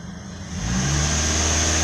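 A 2009 Pontiac Vibe engine with a check engine light and a cylinder 4 misfire fault idles, then revs up sharply under throttle partway through and holds a loud, steady drone.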